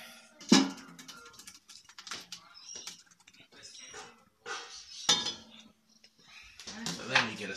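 A spoon scrapes sauce juices out of a pan while making a traditional Sicilian pasta sauce, giving sharp metallic clinks and scrapes in irregular bursts, loudest early and near the end, close by with a voice talking between them.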